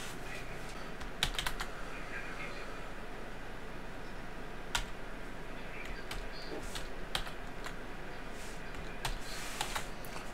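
Quiet clicks of fingers typing a network password on a computer keyboard while setting up a Linksys N300 RE2000 wireless range extender, soft irregular keystrokes over low room hiss.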